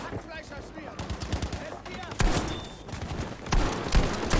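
Rapid gunfire and bursts of automatic fire in the World War II shooter game Battlefield V, loud and dense with sharp shots around the midpoint and end, while a voice talks excitedly over the battle.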